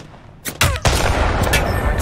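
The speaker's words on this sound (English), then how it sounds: "They're shooting at me!" Bursts of gunfire from a firefight in the battle royale video game Apex Legends, with loud shots cracking in quick succession and a dense, sustained rattle of fire continuing to the end.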